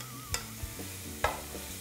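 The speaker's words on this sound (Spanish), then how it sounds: "aquí ya tenemos nuestra cacerola y le vamos a poner el tocino" Bacon frying in a pot, a constant soft sizzle beneath a few sharp spoon clinks and scrapes against the cookware, close by with no voices.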